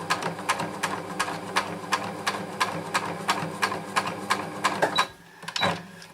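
A sewing machine stitches fleece for a hat in a steady, even run of rapid rhythmic needle strikes, close and clear, then stops abruptly near the end with a few handling clicks.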